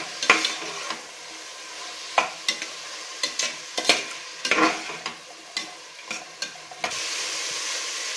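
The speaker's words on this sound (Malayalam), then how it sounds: "ഗ്രീൻ പീസ്, ഉരുളക്കിഴങ്ങ്, എല്ലാ വെജിറ്റബിൾസും ഇട്ട് ഒരു 2 മിനിറ്റ് നന്നായിട്ട് വഴറ്റണം." Green peas, potatoes and mixed vegetables sautéing in a pan for vegetable biryani, a steady sizzle broken by repeated scraping stirs of a spoon, close and without talk.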